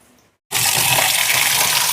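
Soaking water drains off soaked lentils and rice; after a short silence a loud, steady gushing pour starts close by and runs unbroken.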